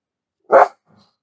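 A single short dog bark, close and fairly loud, followed by a faint low trailing sound, with silence around it and no talk.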